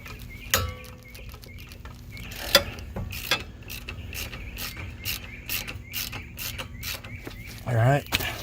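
A hand ratchet loosens wheel studs on a car, with sharp clicking bursts and short pawl rattles spread irregularly across the clip, close and distinct against a quiet workshop background.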